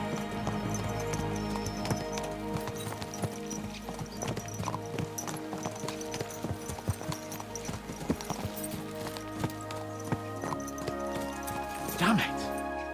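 Horses gallop in Kingdom Come: Deliverance 2, their hooves drumming in a quick, busy rhythm beneath steady orchestral music, with a brief whinny or snort near the end and no spoken voices.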